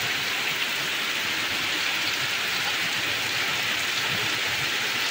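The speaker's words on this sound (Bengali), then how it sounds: "আর কি জোরে বৃষ্টিটা আসলো।" Heavy rain pours down steadily, a dense, loud, continuous hiss of downpour with no break and no voices.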